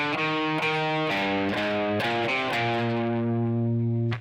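Distorted electric guitar plays the opening two bars of the solo: a run of sustained, singing lead notes with clear pick attacks, loud and close, ending on a held tone that cuts off.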